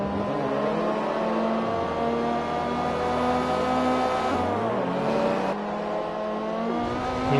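Mini Cooper race cars in Forza Motorsport, with steady engine drone and shifting revs as the cars circle the track, holding a constant level under the whine of harmonics.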